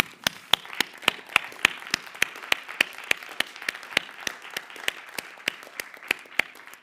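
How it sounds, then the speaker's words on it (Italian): Crisp, evenly spaced hand claps ring out in a theatre, about three per second, fairly faint, over a soft wash of scattered applause from the audience. "un applauso per loro"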